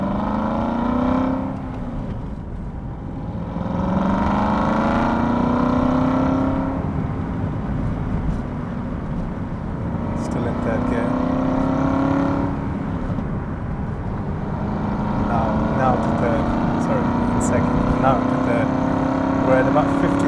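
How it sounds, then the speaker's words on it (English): An Aston Martin Vantage V8 accelerates in sports mode through repeated gear pulls, each rise in engine and exhaust pitch sweeping upward before a shift, loud and sustained from inside the car, with someone talking over it. "you can hear the V8 and the gorgeous exhaust system"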